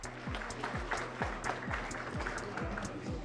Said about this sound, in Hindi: तालियां हो जाए प्लीज सभी के लिए,